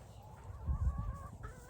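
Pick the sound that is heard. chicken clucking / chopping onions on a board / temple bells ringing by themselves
chicken clucking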